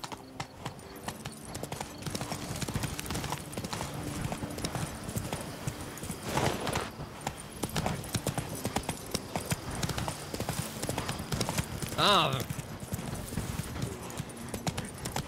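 Roach, a horse in The Witcher 3 video game, gallops steadily with a continuous rhythmic clip-clop of hooves, close and moderately loud, with a brief whinny-like cry near the end.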